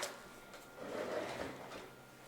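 A kitchen drawer slides open in a single smooth, soft motion, a low rolling rumble swelling through the middle and fading; fairly quiet, with no talking.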